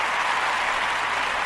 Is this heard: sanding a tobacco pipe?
no